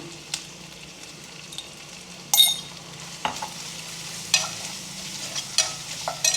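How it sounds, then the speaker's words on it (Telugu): Gongura chicken masala base with turmeric fries in a pan, a low background sizzle punctuated by sharp spoon scrapes and stirring knocks at close range, no speech. "మంచిగా కలిపి వేగనివ్వాలి, పచ్చివాసన పోయిందాకా వేగనివ్వాలి."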